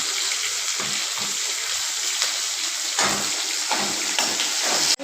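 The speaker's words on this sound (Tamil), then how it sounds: "இந்த கருவேப்பிலை வதக்கிக்கலாம்." Curry leaves sautéing in a hot pan give a steady, loud frying sizzle with bursts of crackle, continuous and close throughout.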